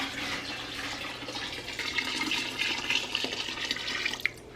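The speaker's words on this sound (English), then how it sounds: "now it really is as easy as just pouring in your soap and water." Soap and water pour into a bucket for homemade laundry detergent, making a continuous, fairly quiet splashing gush with small bubbling bursts and no talk.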